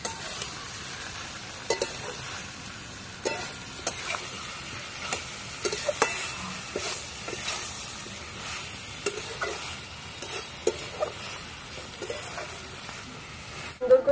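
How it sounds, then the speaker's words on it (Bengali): Vegetable curry with dried loitta fish is stirred in a pan, a quiet continuous sizzle punctuated by repeated scraping clicks of the spatula at an irregular, unhurried pace. "আস্তে আস্তে নেড়ে নেড়ে তৈরি করে নেব চচ্চড়িটা।"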